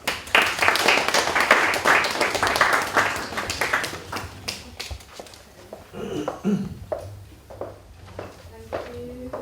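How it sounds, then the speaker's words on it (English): Scattered applause from an audience at an awards evening, uneven claps rising and fading in bursts, with a voice speaking over the later part. "Give her a big hand of applause."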